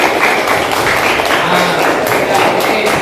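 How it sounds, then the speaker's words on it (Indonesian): A classroom of students claps for a classmate, a dense, loud, continuous patter of hands lasting several seconds with faint voices mixed in. "Tepuk tangan kepada Cika."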